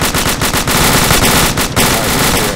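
Machine gun fire in the video game Arma 2 comes in loud, dense rapid bursts of shots, close and continuous with short gaps between volleys.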